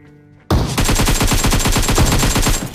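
Gunfire in the video game PUBG Mobile erupts after a brief quiet moment into a loud, rapid automatic burst, with dense, evenly spaced shots sustained close up for about two seconds.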